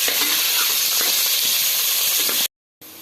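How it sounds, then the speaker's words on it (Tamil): Onions fry with cashews in a pan, giving a dense, steady sizzling hiss up close that cuts off abruptly near the end. "இப்போது வெங்காயம் நல்லா ஃப்ரை ஆகட்டும்."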